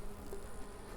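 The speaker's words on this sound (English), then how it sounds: "There's a lot of bees on this next frame" Honey bees buzz on a hive frame, a steady, close, low droning hum holding evenly throughout the short stretch.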